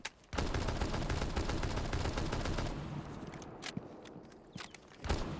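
An SMG-12 in Rainbow Six Siege fires a long, loud, rapid automatic burst, then tails off into scattered single shots and clicks with brief quieter gaps.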